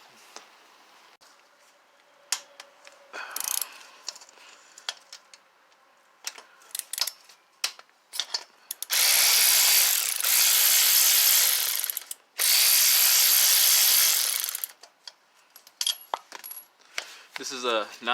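A ratchet wrench with a 9mm 12-point socket works the connecting rod cap bolts on a 2012 Mini Cooper engine, giving scattered sharp clicks and two long continuous buzzing ratchet runs, close up.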